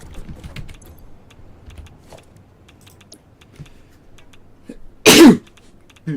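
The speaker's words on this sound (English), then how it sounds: "Sneezes come in twos." A single sharp sneeze bursts out close and loud after a long stretch of quiet keyboard and mouse clicking, with more faint clicks following.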